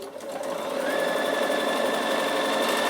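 A sewing machine running a side seam in woollen fabric with cotton thread and an 80 needle, a steady fast whirring hum that holds evenly, close by and alone.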